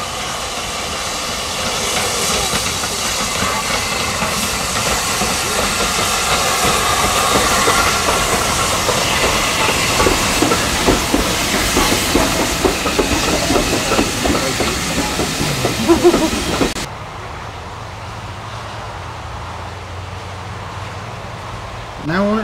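Steam locomotive 30053 working at the Swanage Railway autumn gala, piloted by Metropolitan No. 1, gives a steady loud rumble with hiss and rhythmic clatter of rolling stock for about sixteen seconds, then passes and gives way to quiet background.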